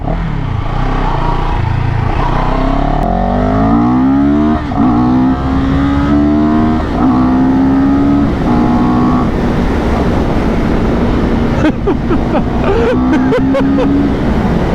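A CFMOTO 700 CL-X motorcycle engine revs and climbs in pitch as it accelerates while riding, loud and close, with steady wind rush throughout.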